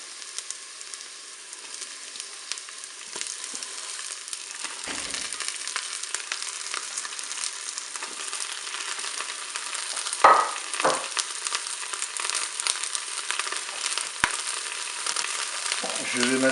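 Endives sizzling in a Cookeo electric pot on top of already-cooking onions, a dense continuous frying hiss with a few brief stirring knocks, no one talking.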